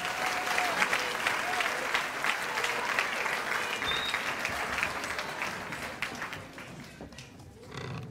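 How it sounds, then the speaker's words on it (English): A banquet crowd honoring softball All-Americans bursts into sustained applause, a dense wash of many hands clapping steadily for several seconds before tapering off, with faint voices mixed in. "let's give these outstanding ladies one more round of applause"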